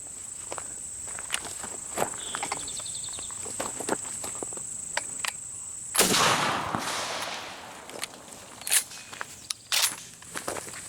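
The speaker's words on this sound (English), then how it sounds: "the last thing I'm gonna try for this video, blam, 12 gauge dove shot" A 12 gauge shotgun loaded with dove shot fires one sharp, loud blast outdoors, followed by a few smaller impacts and rustles over a steady background of insects chirping.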